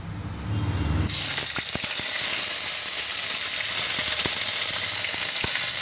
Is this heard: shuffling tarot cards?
no